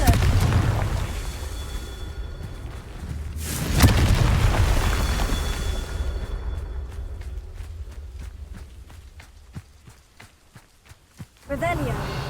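A Confringo fire spell explodes in Hogwarts Legacy. A loud, booming blast lands against busy game noise, and a rapid series of sharp crackling pops follows. Another burst comes at the end, under speech.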